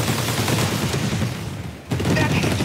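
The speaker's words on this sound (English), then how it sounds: "Multi rocket launchers." Multi rocket launchers fire in 13 Sentinels: Aegis Rim as a dense, continuous barrage of rapid blasts, easing briefly before a fresh burst crashes back in at full loudness.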